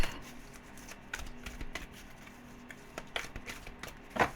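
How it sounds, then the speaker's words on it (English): A highly laminated tarot deck is shuffled in a few quick riffling bursts with soft slapping card contacts, close and fairly quiet, with no talking over it. "It's quite a difficult deck to shuffle, because I don't know if you've noticed, but it's highly laminated"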